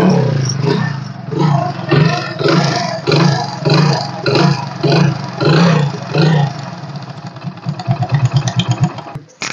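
A 2010 kick-start Splendor motorcycle with alloy wheels runs nearby, pulsing through a series of loud rhythmic revs before settling into a faster, choppy idle putter, with no voices.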